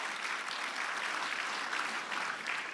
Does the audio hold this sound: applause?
yes